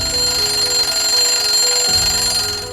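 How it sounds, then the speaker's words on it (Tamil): An alarm clock rings loudly and continuously in a bedroom, a bright steady electronic tone that holds without pause and shifts slightly near the end. "டெய்லி காலையில அர்ஜுனோட ரூம்ல சத்தமா அலாரம் அடிக்கும்."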